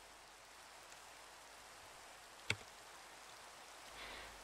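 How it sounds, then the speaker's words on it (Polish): Heavy rain falling at sea in Minecraft, a soft, even hiss of downpour throughout, faint and steady, with one sharp click midway and a slight swell near the end, no voices. "czeka nas noc na otwartym morzu w ulewie"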